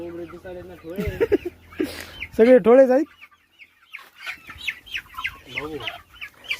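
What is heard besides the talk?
village chickens clucking while being picked up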